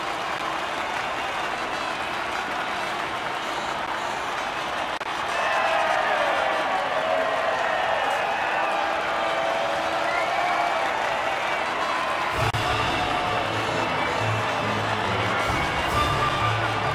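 Crowd cheering and applauding at the podium in the F1 22 video game, a continuous dense roar that swells slightly partway through, joined near the end by a low rhythmic mechanical hum.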